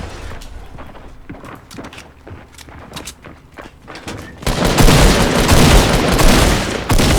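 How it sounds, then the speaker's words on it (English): Shotgun fire in Fortnite: a few sharp, scattered shots at first, then a sudden loud burst of blasts and crashing noise that fills the second half. "he's trying to shotgun me in the face"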